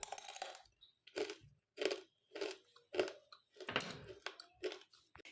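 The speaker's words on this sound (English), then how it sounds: "This is as crispy and crunchy as it can be. This is because I use unripe plantain." Crispy chips made from unripe plantain crunch in a series of sharp, close bites and chews, about eight distinct crunches spaced roughly half a second apart.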